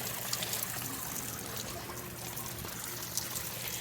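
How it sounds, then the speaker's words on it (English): Steady water trickling and splashing continuously, a broadband wash of sound with no talking, close and moderately loud. "It's fun being behind the waterfall."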